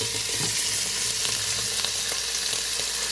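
Bacon frying in a pot: a steady, close hiss of grease with scattered small pops and some stirring, no talking.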